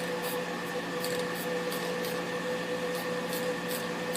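Matte finish spray spritzed from a can in a series of short hissing bursts over a steady background hum, close and fairly quiet.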